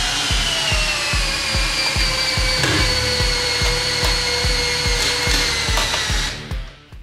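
A power tool whirs steadily with a regular rhythmic pulsing as a nut is run down a threaded rod on a plywood bead breaking jig squeezing a Honda ATC 110 three-wheeler tire, loud and close, then cuts off.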